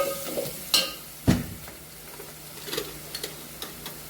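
Spices are stirred and sautéed in a pan for sambar, giving a soft sizzle with a few sharp scraping clicks of a spoon against the pan. The clatter is close and fairly quiet, with no talk.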